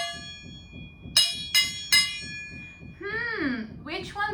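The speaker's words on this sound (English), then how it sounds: "let's listen to the gong and the drumstick" A gong is struck three times with a drumstick. Each hit rings bright and metallic with a sustained shimmer. A voice speaks just after the strikes.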